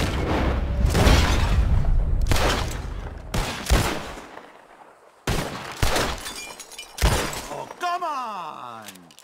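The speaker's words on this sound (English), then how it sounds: "The one who shoots the most bottles wins." Gunshots in Red Dead Redemption 2 crack in loud bursts, with glass bottles shattering after several of them, ending in a ringing, jangling tail.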